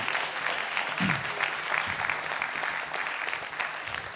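A congregation at a Shabbat evening service applauds the musical accompaniment, a steady wash of many hands clapping at moderate volume throughout, with no talking over it.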